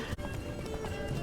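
Horse hooves gallop in The Witcher 3: Blood and Wine, a steady rapid clip-clop close up over a dense game soundtrack and ambient noise.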